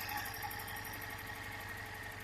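A CMC Daytona 250 carburetted cafe racer motorcycle engine idles steadily, a close, even mechanical thrum with a regular rhythmic pulse and no talk over it.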